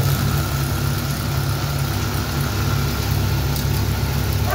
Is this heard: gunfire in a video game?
no